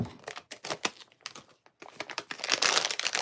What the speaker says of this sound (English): I'm just going to cut it below this reseal.